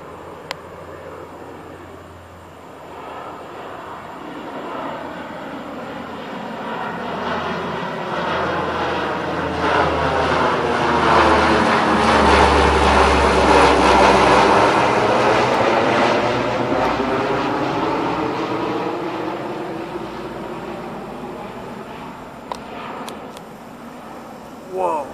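A radio-controlled C-130 Hercules scale model plane makes a fast low pass at about 200 feet, its propeller roar swelling as it approaches, peaking overhead and then fading as it departs.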